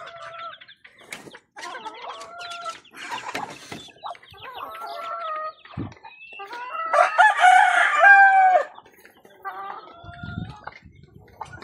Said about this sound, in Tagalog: 8 chicks.